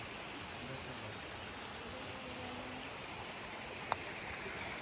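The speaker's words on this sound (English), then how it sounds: "Water flows down from the waterfall." Forest waterfall near Mt. Aso in Kumamoto, Japan: a steady, soft rush of falling water forms an even hiss throughout, with one brief sharp click near the end.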